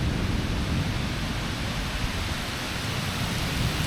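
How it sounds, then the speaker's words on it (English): Steady, dense rain pours during a West Virginia thunderstorm, a continuous close wash of noise with low rumbling underneath and no voices. "Yeah, it's rain."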